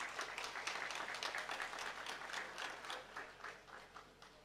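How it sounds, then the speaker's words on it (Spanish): Guests at a fundraising dinner clap in a warm round of applause, with a brisk patter of many hands that sounds moderately distant and softens slightly toward the end. "un caluroso aplauso, por favor"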